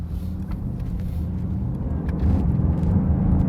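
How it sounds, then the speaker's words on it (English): A supercar accelerates quickly from inside the cabin, its engine a deep, steady rumble that grows a little louder toward the end. "Quick acceleration right off the bat. Feels great, makes a great noise, right?"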